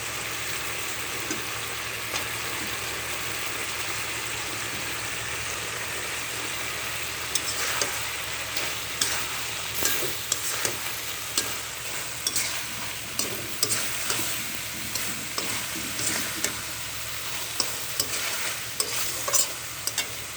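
Tarul fish frying in a pan with bay leaves for a bitter-gourd shukto, cooked without water: a steady close sizzle throughout, with a series of scraping stirs and light clatter building in the second half.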